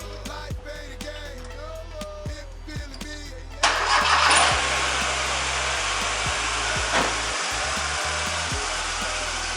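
A Hyundai Accent car engine warming up toward operating temperature before an oil change; a voice talks briefly at first, then the engine roars in close and loud, settling into a steady, even running drone.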